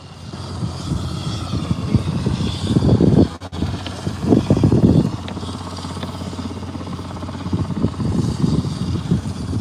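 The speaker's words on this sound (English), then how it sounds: "nice big helicopter that is" A helicopter's rotor thump and engine drone fill the air, steady and fairly loud with a few rising surges, no voices.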